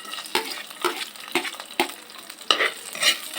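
Garlic sizzling and frying in a pan for a shellfish dish, with repeated stirring scrapes roughly every half second over the hiss.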